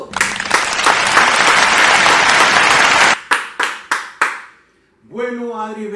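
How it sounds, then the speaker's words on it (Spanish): An interview audience claps for a guest, dense loud applause that thins into a few scattered final claps, then a voice starts speaking. "Esto para mí, gente, la verdad merece otro aplauso."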